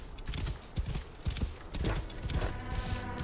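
Horse hooves clip-clopping and a whinny from a horse in the Assassin's Creed Origins video game, rhythmic hoofbeats close by with a neigh mixed into the stream of steps.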